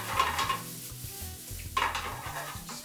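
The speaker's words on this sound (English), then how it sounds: "they're toasting with these mushrooms and a little bit of salt in this pan now" Mushrooms with a little salt sizzle in a pan over very high heat while a utensil stirs and scrapes them, giving a steady close frying hiss with intermittent clinks and scrapes and no talking.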